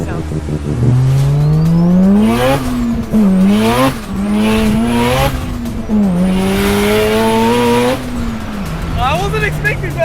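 Big-turbo bridgeported 13B rotary Mazda RX-7 driving hard, its loud engine note rising and falling through repeated revving pulls and shifts, up close, with talking underneath.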